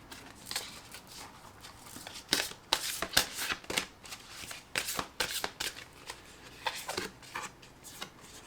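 A deck of cards being shuffled during a card reading, with repeated bursts of papery riffling and flicking that come in quick clusters, close and fairly loud, with no talk over them.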